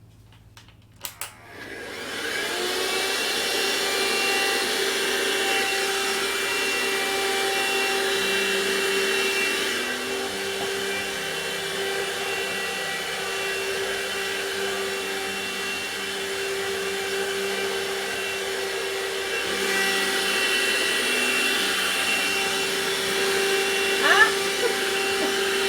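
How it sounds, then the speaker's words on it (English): A vacuum cleaner switches on after a short bang and runs with a steady, loud motor whine that lasts through the clip. A brief knock comes near the end. "where's my vacuum cleaner?"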